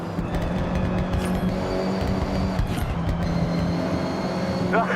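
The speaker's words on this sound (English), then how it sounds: "You can hear the engine has more power." A continuous hypercar engine drone in Forza Horizon 6 with steady humming tones, sustained and fairly loud throughout, like a car revving under load.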